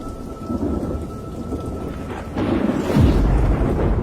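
Heavy rain pours steadily while a deep rumble of thunder rolls in partway through and swells louder.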